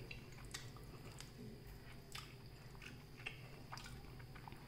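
Someone chews soft, well-cooked mutton chops near the mic, with wet squishy bites and smacking in an irregular rhythm over a quiet room hum.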